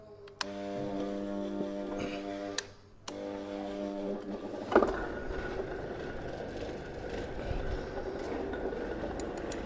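A lathe gearbox grinds into motion after a few short mechanical clunks, settling into a steady whirring drone with metallic rattling, close and continuous with no talk.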